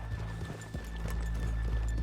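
In the Red Dead Redemption II game world, horses walk along a town street with a steady clip-clop of hooves, close and fairly quiet, over a constant low background hum.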